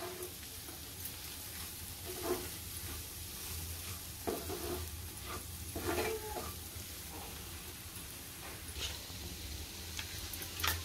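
Turmeric and homemade Koli masala being stirred into an egg masala in a pan, faint soft sizzling with intermittent spoon scrapes and taps, quiet and close.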